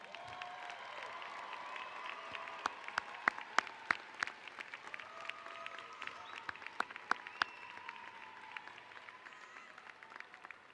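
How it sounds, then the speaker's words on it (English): Applause at a Becker College graduation ceremony, a large audience clapping steadily for about ten seconds, distant and even with occasional louder single claps. "have all of you as graduates have a big round of applause"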